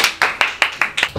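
A single person clapping in a studio, six or seven sharp, close, loud claps in an even rhythm about a fifth of a second apart, with no talk over them.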